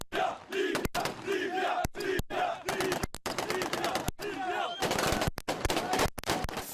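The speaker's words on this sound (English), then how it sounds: "That weariness doesn't stop them, however, from enthusiastically letting off hundreds of rounds into the air." Anti-Gaddafi fighters near Sebha in the Libyan Sahara loose off hundreds of celebratory rounds into the air, loud sharp gunshots and rapid bursts cracking close by over a cheering, shouting crowd.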